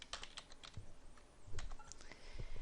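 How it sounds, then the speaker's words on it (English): Computer keyboard typing a short message, quick light key clicks in a loose irregular run, close up and soft, no voices. "I can type in here a message back to him"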